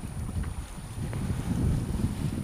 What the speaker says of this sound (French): on marche toujours sous voile, hein, très correctement